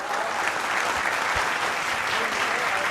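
Audience applause at a live patriotic stage show: dense, steady clapping from a large crowd, sustained evenly for about three seconds with no pause.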